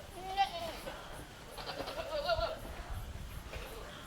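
Several goats bleat on a goat farm, their calls rising now and then over steady speech nearby, with a few overlapping cries clustered in the middle.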